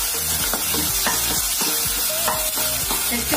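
Onions fry in a pan for a restaurant-style egg masala gravy, a steady close sizzle running through with repeated scraping strokes of a spoon stirring them, no voices.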